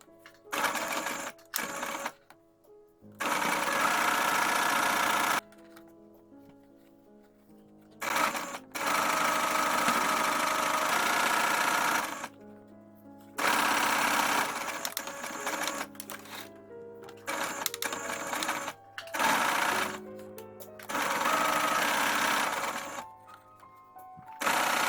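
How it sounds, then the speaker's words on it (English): A sewing machine stitches a fabric face mask in several runs of rapid mechanical whirring lasting a few seconds each, broken by short quiet pauses. The machine is close and loud, and no one speaks. "you can go ahead and sew along through the top and then sew along the bottom"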